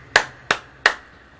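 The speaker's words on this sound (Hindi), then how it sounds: "ताली बजाकर" Three sharp, evenly spaced hand claps at a church gathering, close and distinct with short decays and quiet gaps between them.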